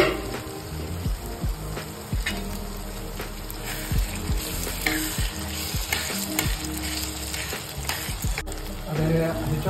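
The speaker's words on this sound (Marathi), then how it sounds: "आता याच्यामध्ये आपण टमाटर ऍड करणार आहे। हे पूर्ण मिक्स करून घ्यायचं।" Tomato is stirred into potato and onion frying in a pan for upma, loud close sizzling with frequent rhythmic scraping and knocks of a spoon against the pan, with no voices.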